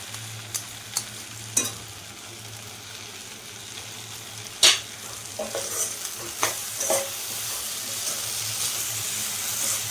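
Ginger fried with a rice mixture in a pan for dragon pulao, a steady sizzle and hiss broken by sharp clinks and scrapes of a stirring utensil, close and with no voices.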